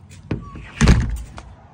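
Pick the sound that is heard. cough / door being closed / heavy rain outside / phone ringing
door being closed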